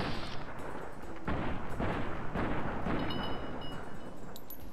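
Rapid laser pistol fire in Fallout: New Vegas, a dense run of loud crackling shots and blasts packed close together throughout, alone without talk.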